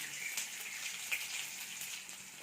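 Crushed unpeeled garlic cloves and fennel seeds sizzle in hot oil in a pan, a steady close crackling fry with no talking.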